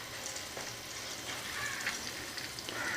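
Layered laccha paratha fries in a pan over a low gas flame, giving a soft, steady, quiet sizzle with faint crackles and no voices.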